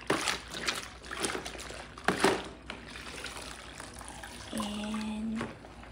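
Water pouring into an O-Cedar mop bucket, an irregular trickling and splashing with a few louder gushes and a brief tonal squeak near the end, fairly close and moderately quiet.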